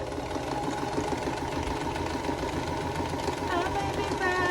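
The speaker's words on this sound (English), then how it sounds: "We're gonna sew down the side with a scant 1/4 inch seam" A sewing machine stitching a scant quarter-inch seam runs with a steady, fast mechanical whir and rhythmic clatter, close up, with faint singing over the top near the end.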